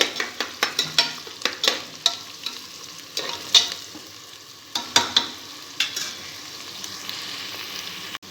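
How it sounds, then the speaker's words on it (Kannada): Biryani ingredients frying in a pan at home, a steady sizzle broken by repeated sharp scrapes and clinks of a spoon stirring against the metal, close and fairly loud with no voices. "ಈಗ ಇದು ಚೆನ್ನಾಗಿ ಫ್ರೈ ಆಗಬೇಕು."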